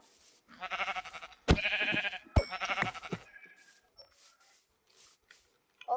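Sheep in Minecraft bleat several times in close succession, loud and near, with short pauses between calls and a few quieter game sounds afterward, no talking.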